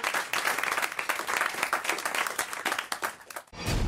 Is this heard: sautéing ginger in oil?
no